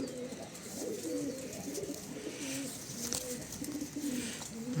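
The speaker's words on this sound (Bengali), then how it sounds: "কবুতর একটু উত্তেজিত কারণ আমি সচরাচর হাতে কবুতর ধরি না সেই কারণে কবুতর একটু উত্তেজিত হইতেছে" A pigeon held in the hand coos excitedly, repeated low throaty cooing phrases close by over a faint background hiss, with no talk.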